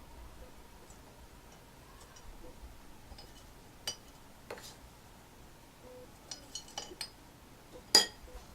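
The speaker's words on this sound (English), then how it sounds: "You can scoop it to a glass jar and make labels." Homemade herbal bath soak is scooped into a glass jar, giving a few faint, scattered clinks and taps of scoop against glass over a quiet background, with the sharpest clink near the end.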